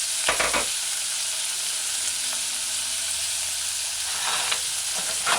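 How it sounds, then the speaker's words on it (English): Cubed luncheon meat sautés in a pot over a medium-low stove, a steady broadband sizzle running throughout with a few brief stirring scrapes near the start and end, close and moderately loud, no speech. "add your cubed luncheon. Remember, you can use spam instead. Allow it to saute."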